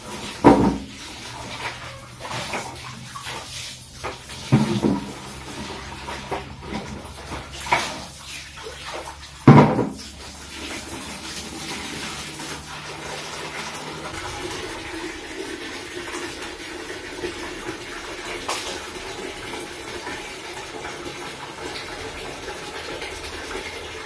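Running water during dishwashing: a few clattering knocks of dishes at first, then a steady close rush of water from a tap that carries on evenly to the end, with no talk.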